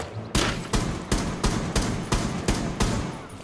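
Rapid gunfire in the video game Rainbow Six Siege, with about eight loud, evenly spaced shots close by over a few seconds and no talking.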